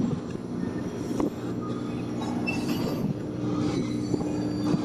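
A train rolls slowly along the rails with a heavy low rumble, metallic creaks and faint wheel squeals, close by and continuous.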